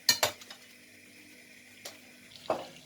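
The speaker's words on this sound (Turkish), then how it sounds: "Şimdi bunu güzelce bütün tereyağıyla karışsın diye karıştırıyoruz." A spoon stirs boiled manti dumplings with melted butter in a dish, giving a few sharp clinks and soft scrapes with quiet pauses between, close and fairly faint.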